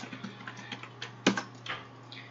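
Close, light typing on a computer keyboard, entering a Stata display command, with an uneven patter of key clicks, one sharper louder press in the middle and a low steady hum beneath, with no talking.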